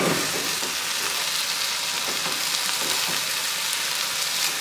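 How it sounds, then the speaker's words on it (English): Stir fry sizzles loudly in a pan, a dense, even crackling hiss that holds steady from start to finish with faint stirring beneath it and no voices. "It's a lot of stir fry."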